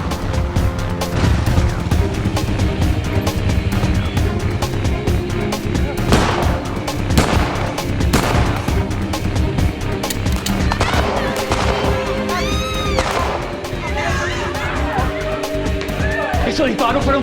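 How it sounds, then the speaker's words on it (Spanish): Bursts of gunfire ring out in front of a house, sharp cracks scattered through a dense, busy backdrop of voices and dramatic sound. "Esos disparos fueron frente a la casa."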